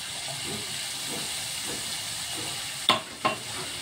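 Ginger and green chili paste with cashew paste sautéing for a vegetarian jackfruit curry, a soft even sizzle and hiss throughout, then two sharp clinks of a utensil against the pan near the end.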